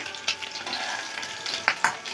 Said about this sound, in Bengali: উল্টিয়ে পাল্টিয়ে লাল লাল করে আমি ভেজে নেব।